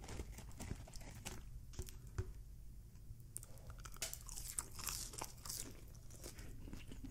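Close-up wet chewing and sharp crunching of a meal of double cheeseburger, hot dogs, chili cheese dogs, onion rings and fries with ranch and fry sauce, bites and crunches repeating irregularly with no talking.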